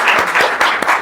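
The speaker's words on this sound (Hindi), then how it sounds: "तो जोरदार तालियां एक बार और।" A short, loud burst of audience clapping at a motivational talk in a coaching academy, a dense, close patter with a few sharper claps standing out.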